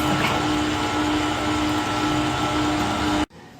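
A stand or hand mixer whirs steadily and loudly while blending strawberry cake batter, then cuts off abruptly near the end.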